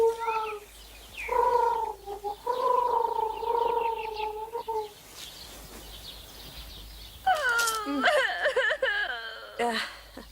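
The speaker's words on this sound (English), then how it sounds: "Listen to the doves." Doves cooing in a Cinderella tale, heard as repeated low, mournful calls with bird-like chirps and rising cries toward the end, fairly close and clear over a faint background.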